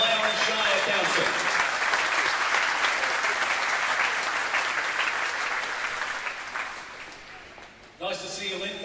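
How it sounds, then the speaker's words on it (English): An audience at an evening awards event applauds in a long, full round of clapping that tapers off gradually, before a voice cuts in near the end. "Could you keep that applause going tonight for Lynn Webster joining us"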